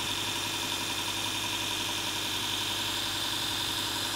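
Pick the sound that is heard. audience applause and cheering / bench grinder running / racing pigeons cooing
bench grinder running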